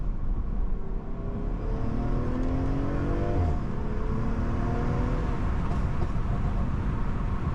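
A BMW M340i tuned to about 500 hp pulls hard through the gears, its engine note climbing in rising sweeps with a turbo whir and a brief shift dip, loud and steady from inside the car.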